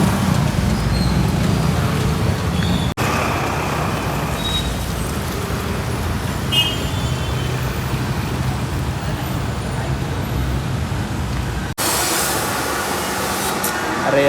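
Steady roadway traffic noise from a long traffic jam near Manjari, Pune, with cars, buses and autos idling and creeping along a rain-washed road, a continuous dense rumble close by with no talking.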